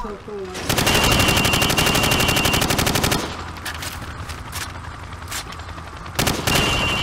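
Sustained automatic gunfire fired from the hip at targets on a Call of Duty 4 firing range, a loud rapid burst lasting a few seconds, then scattered single shots and a final short burst.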